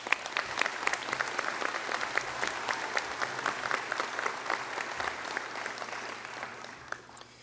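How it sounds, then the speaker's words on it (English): A crowd claps continuously for several seconds during an opening session, a dense, even patter of many hands heard from within the room, fading slightly at the end. "I think that deserves a round of applause."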